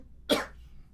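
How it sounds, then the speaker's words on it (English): A single sharp, close cough bursts out after a short silence and quickly fades. "it's my cough is catching up to me."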